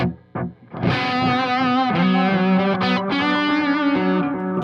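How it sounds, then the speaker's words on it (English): Overdriven electric guitar played through an analog delay pedal on a pedalboard, a sustained distorted chord with a brief pause then ringing, layered notes and audible repeats trailing behind, loud and close. "Analog delay with overdrive."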